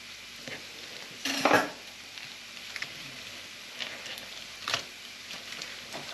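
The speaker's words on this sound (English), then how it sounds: "bacon's rendering right down now. Nice and crisp." Bacon frying and rendering down crisp in a pan gives a faint, soft sizzle, with a few sharper scrapes and clinks of a utensil against the pan, and no talk.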